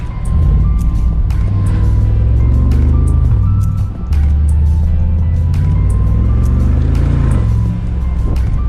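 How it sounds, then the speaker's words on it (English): A McLaren's exhaust roars during driving, with a loud, close, deep engine drone that rises and falls in pitch as the revs change and dips briefly midway. "Already the exhaust sounds more deep."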